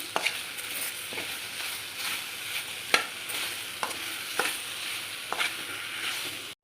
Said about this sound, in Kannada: ಇದಕ್ಕೆ ಒಂಚೂರು ಅರ್ಶಿನ ಹಾಕೊಂಡು ಫ್ರೈ ಮಾಡ್ಕೊಂಬೋಣ